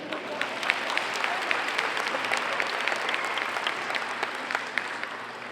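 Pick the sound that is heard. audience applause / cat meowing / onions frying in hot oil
audience applause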